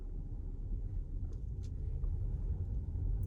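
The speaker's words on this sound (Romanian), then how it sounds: "Simți doar că urcă turația și mașina pleacă de pe loc." A Kia Sportage with an iMT manual gearbox rises in revs and pulls away, giving a steady low engine rumble from inside the cabin with no talk.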